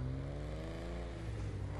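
Dewbauchee JB 700 sports car in GTA 5, modeled on the Aston Martin DB5: a steady, loud engine drone with a low rumbling tone that holds without a break.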